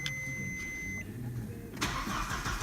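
The 1.8-litre fuel-injected ADR petrol engine of an Audi A6 C4 runs at a steady, close idle, then rises into a louder, rougher burst near the end.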